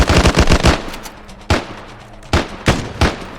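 Close, loud machine gun fire in the video game Arma 3: a rapid rattling burst followed by several single heavy shots spaced apart.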